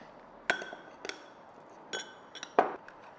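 A spoon clinks against a bowl while cocoa and butter are mixed for a chocolate cream, giving four or five sharp, separate taps spread over a few seconds in a quiet room.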